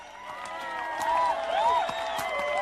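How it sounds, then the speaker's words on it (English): Villagers cheer and call out together in a lively outdoor crowd, with overlapping whoops and excited voices swelling steadily, fairly loud and continuous. "people come out of their houses and they cheer."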